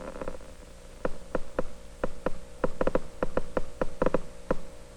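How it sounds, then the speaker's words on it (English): Amplified electrical clicks from elementary charges moving in a very weak current, heard as sharp, irregular ticks, about a dozen over five seconds, over a steady low hum in a 1961 physics demonstration. "You hear the amplified sound of the elementary charges in this very weak current."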